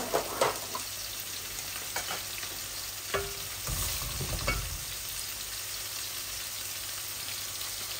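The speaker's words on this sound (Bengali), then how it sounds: "মাছগুলাও ভাজা ভাজা হবে।" Rohu fish pieces sizzling in hot oil in a pan, a steady soft crackle with a few louder spatters and a brief clatter of stirring midway.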